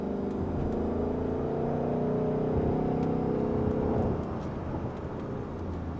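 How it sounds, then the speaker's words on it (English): A 2024 Ford Mustang GT's V8 exhaust drones steadily while driving, a loud, continuous engine note with harmonic hum that eases slightly near the end, with no voices over it. "And that exhaust, it sounds, again, that exhaust sounds so good."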